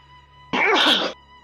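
A single loud, close sneeze bursting out abruptly and lasting about half a second, alone against a quiet background during a gaming session.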